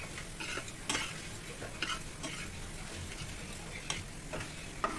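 Semolina (rava) stirred and roasted in melted ghee in a pan, giving a soft continuous sizzle broken by a handful of sharper scrapes of the spoon against the metal, close and fairly quiet.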